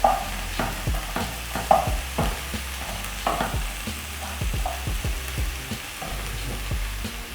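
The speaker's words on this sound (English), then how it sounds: "let this cook until the onions are soft" Onions frying in a pan for a pork dish, a steady sizzle running throughout with repeated clatter and scraping of stirring, close by and with no talking.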